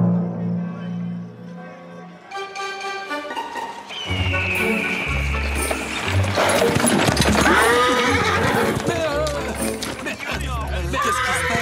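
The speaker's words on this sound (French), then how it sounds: "Mais d'où ils sortent ces chevaux?" Horses in a Zorro cartoon whinny loudly and gallop up in a busy clatter of hooves, laid over an orchestral score that swells as the herd draws closer.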